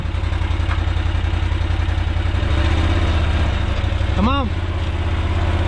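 A Can-Am Defender UTV engine idles nearby with a steady, loud low throb while someone speaks briefly over it.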